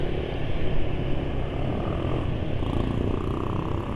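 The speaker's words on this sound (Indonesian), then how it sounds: "suara NMAX Old itu halus loh, halus banget." A new Yamaha NMAX Old scooter engine idles smoothly and steadily, a continuous low hum close by with no voices.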